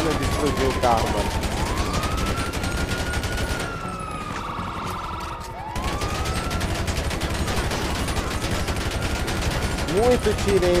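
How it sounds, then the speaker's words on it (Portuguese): Rapid gunfire rattles in a GTA 5 Online shootout on Xbox Series S, dense bursts with police sirens wailing through, pausing briefly midway before the shooting resumes, with a voice talking over it. "Muito tiro ainda, não explodiu o carro"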